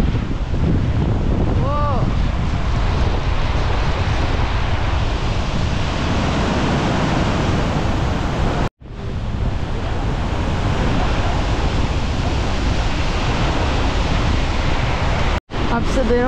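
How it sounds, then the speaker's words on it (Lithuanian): Powerful roaring waterfall in Iceland, a dense continuous rush of water pouring down in tiers, loud and close with steady wind buffeting the microphone; a brief whistle-like tone rises faintly early on. "Ir tiek vandens. Eee, tokia galinga srovė."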